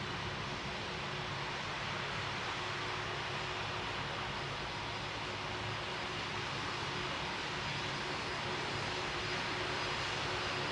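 A jet airliner lands in Pilot Training Flight Simulator, a video game: a steady, dense roar of engine and wind noise runs unbroken at constant loudness, with no voices.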